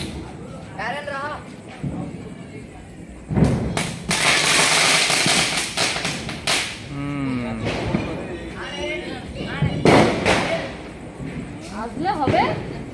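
Firecrackers bursting at a Rangoli celebration, several sharp bangs and crackling bursts spread irregularly over lively nearby talk and voices.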